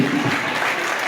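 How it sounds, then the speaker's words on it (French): An audience at a national Génie en herbe quiz final in Guediawaye applauds a contestant, with dense, steady clapping filling the whole short moment. "Amin Toba, maximum d'applaudissements pour elle."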